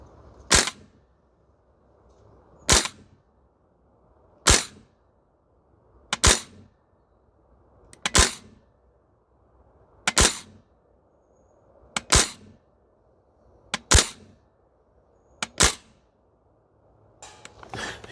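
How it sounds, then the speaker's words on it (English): VFC URGI V3 airsoft gas blowback rifle fired in single shots at a metal target, each sharp crack followed by a ringing clang, about nine evenly spaced shots roughly two seconds apart, loud and close with no talking. "if you hear like a metal clang noise, we're hitting the target"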